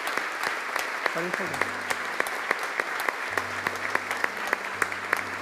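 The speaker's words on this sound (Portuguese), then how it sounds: "com a salva de palmas" A church congregation applauds during an anniversary service, steady clapping with distinct sharp claps throughout, while low tones and faint voices sound underneath.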